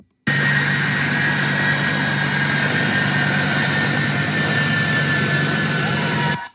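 A loud, steady aircraft engine roars at an air force base, a continuous jet-like whine and rumble holding level throughout before cutting off abruptly at the end.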